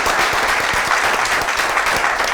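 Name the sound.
studio audience applause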